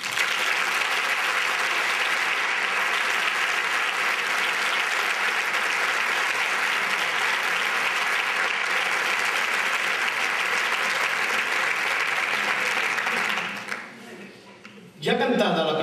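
Audience applause at the Isla Cristina Carnival 2010 proclamation, loud sustained clapping from a large crowd for about fourteen seconds, then a brief dip before a fresh burst at the end.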